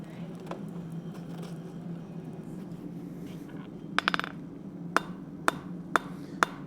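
Hammer blows on hot steel at a forge anvil, a quick cluster of ringing strikes followed by four evenly spaced single hits, loud and close over a steady low hum of the forge.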